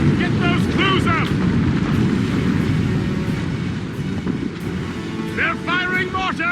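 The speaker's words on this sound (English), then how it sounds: "They're firing mortars!" Deep, rumbling mortar fire from ships in a naval battle in the Assassin's Creed Rogue video game, a constant low boom and roar with shouted voices breaking through.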